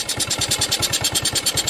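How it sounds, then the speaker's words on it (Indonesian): A Yamaha Soul GT 125 scooter engine with a faulty TPS sensor runs at raised throttle close by, a fast, even pulsing beat with a buzzy exhaust edge, steady and loud with no voices. "Sebelum kita pasang, coba kita geber gasnya lebih tinggi."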